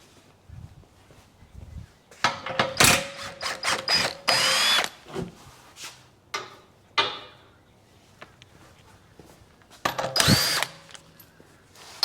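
A power tool loosens suspension bolts on a vehicle in a series of short, loud bursts with ratcheting rattles between them, close by, with quiet gaps between runs.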